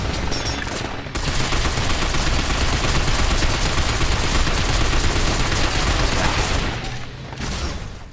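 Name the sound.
gunfire shooting robots in video game Binary Domain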